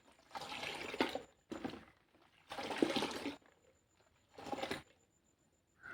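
A liquid mix of fenugreek and sweet lime is poured onto plants in several separate close bursts of splashing, gushing water, with quiet pauses between pours.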